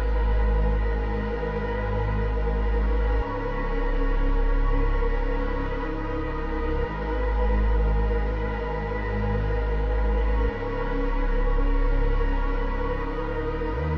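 A beat intro made from a reversed, blurred melody rendered in FL Studio Edison, with smeared sustained tones over a deep bass pulse that swells and drops in a repeating cycle of roughly three and a half seconds.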